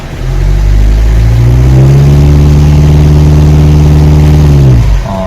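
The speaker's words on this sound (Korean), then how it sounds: "한번 엑셀 한번 밟아볼게요." A used car's engine revs up under a pressed accelerator during a pre-purchase check, a loud, steady rising drone held for several seconds before dropping back, close to the microphone with no talking.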